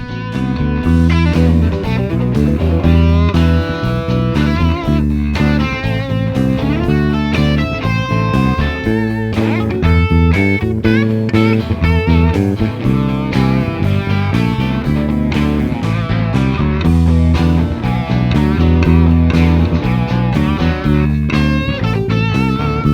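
Rock bass riff moving around the fretboard, played loud and steady over a full backing track with drums, alone without talk for the whole stretch.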